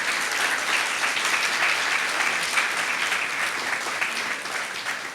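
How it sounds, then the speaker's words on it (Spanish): A church congregation applauds during a sermon, a broad, steady roar of many hands clapping at once that holds evenly for several seconds, moderately loud, with no clear speech over it. "denle un fuerte aplauso al Señor"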